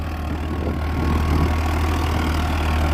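A Farmtrac 60 tractor engine runs steadily at about 1800 rpm in a field, a close, loud, low diesel drone that holds even throughout.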